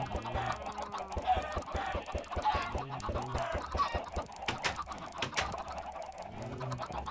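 Chickens in the Minecraft video game cluck and squawk repeatedly in short bursts, moderately loud and alone, with no talk over them.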